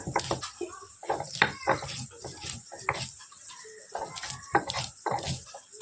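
Ginger, garlic and green chili being ground into a spice paste for biryani, a run of irregular scraping and knocking strokes of stone on stone, close and moderately loud with uneven bursts throughout, no talking.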